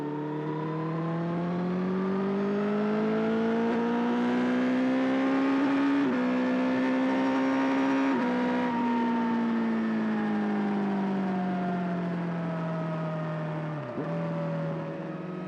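Honda CBR1000RR sportbike engine revving from a rider's point of view, a loud steady drone whose pitch climbs and falls through several rises with brief dips, continuous for the whole stretch with no talk.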